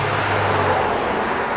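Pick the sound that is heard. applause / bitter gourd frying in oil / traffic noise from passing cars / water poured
traffic noise from passing cars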